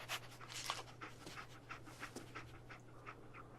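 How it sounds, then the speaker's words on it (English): The dog companion Dogmeat in the video game Fallout 4 pants in quick, soft, rhythmic breaths, faint and close, with no talking over it. "Ah, there you are, my fine canine companion."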